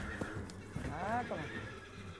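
A cold-blood draft horse foal gives a clear whinny, rising and falling, heard close at moderate volume; a few hoof clops and nearby voices are mixed in.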